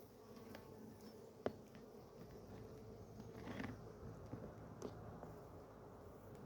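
Honeybees buzzing around an open hive while it is being fed before winter, a steady low hum with a few louder passes close by and occasional small knocks, no voices.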